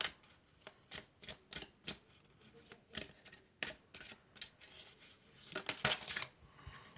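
A deck of cards is shuffled for a card reading, with a run of quick, crisp riffles and flutters in an uneven rhythm that thickens into a denser burst near the end, close and clear with no talking.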